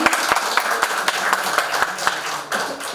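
An audience claps in a steady, moderately loud round of applause after a song, individual claps distinct and evenly spaced.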